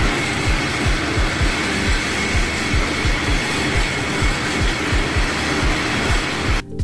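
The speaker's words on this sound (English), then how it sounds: "Capable of producing up to 350 cans per minute, the YR306 allows manufacturers to easily scale up operations." A YR306 can production machine running in a factory, a steady loud mechanical roar with fast, regular rhythmic thumps repeating throughout.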